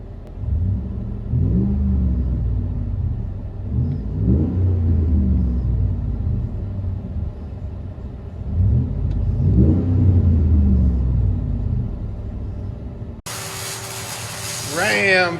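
2010 Ram 1500 with a 5.7L Hemi and dual exhaust through an 18-inch DTM muffler, heard from the cab: a deep, steady low rumble that swells with a couple of revs, with a voice talking over it and a sharp change near the end.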